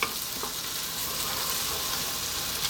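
Cream sauce with grated Parmesan stirred in a hot pan, a continuous bubbling sizzle with soft scraping strokes, close and steady, no talking.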